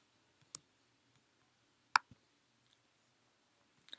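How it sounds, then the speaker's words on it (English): Faint computer mouse clicks as an Accept button is pressed in an online tutorial, a few isolated short ticks spaced a second or more apart over near silence, with no talking. "then click Accept"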